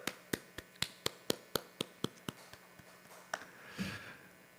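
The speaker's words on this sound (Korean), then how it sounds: "우리 하나님께 영광과 감사의 박수 올리겠습니다." A church congregation at a Friday prayer meeting claps in a quick, evenly spaced run of about fourteen distinct claps that taper off, followed by a faint murmur.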